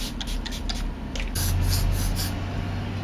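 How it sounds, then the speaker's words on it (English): Short bursts of hair spray hiss from an aerosol can, a few quick puffs followed by a longer, louder continuous spray up close. "I really shouldn't be spraying with this thing"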